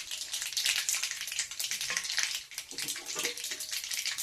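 Cumin and mustard seeds frying in hot oil in a pan give a close, steady hiss with bright crackling and popping that carries on unbroken the whole time.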